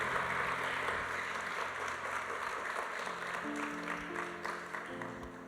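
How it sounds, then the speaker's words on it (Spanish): Church congregation applauding in steady, sustained clapping that fills the room, with organ or keyboard chords sustained underneath throughout. "Dele ese fuerte ese aplauso al Señor."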